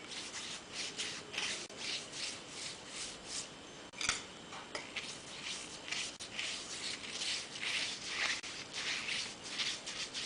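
A brush sweeps green dye across waxed silk in soft, repeated rubbing strokes, faint and close, with a steady back-and-forth rhythm and no talk.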